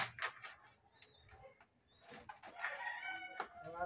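Chickens cluck and a rooster crows in a coop fitted with a makeshift windbreaker, faint and intermittent with scattered bird calls and no talk.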